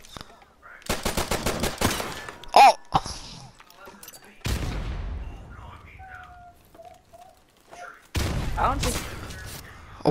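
Shotgun fire in a video game: loud, close blasts and a rapid run of shots, then more heavy bursts later, with someone talking excitedly between the shots.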